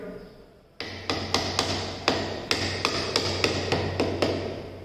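A chisel cuts into wood during carpentry work, driven by about a dozen sharp, evenly spaced knocks that ring close and loud with nothing else heard.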